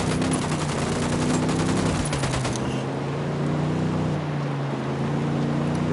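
Enemy gunfire in Ghost Recon Wildlands, dense rattling bursts of automatic fire over a constant loud engine-like drone, the shots thinning out after the first couple of seconds.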